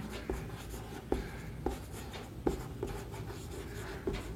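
A pen or marker writes on a surface in short strokes, with a handful of distinct taps and scratchy bursts spaced about every half second to second, quiet and close, without speech.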